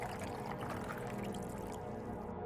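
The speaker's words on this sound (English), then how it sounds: "Take our arsenic. Pour that." A steady liquid pour of arsenic runs in the game Easter Night, a continuous gurgling flow that holds at an even level for a couple of seconds over a low tonal background.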